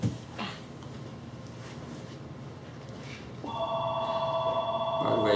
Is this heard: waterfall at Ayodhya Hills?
no